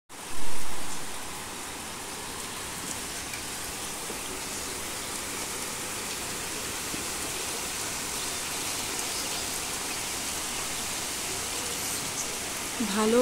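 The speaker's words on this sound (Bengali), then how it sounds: "ভালো জোরে নেমেছে বৃষ্টি" Heavy rain pours down outside in a steady, dense roar of hiss that holds evenly throughout, fairly loud and constant, with a brief louder swell at the start.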